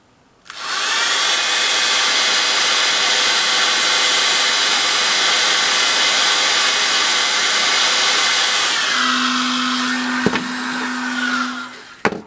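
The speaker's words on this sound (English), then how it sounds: "Let's get the hairdryer." A loud, steady whooshing hair dryer runs for several seconds near a Bosch microwave under repair, then its pitch shifts and a click cuts it off near the end.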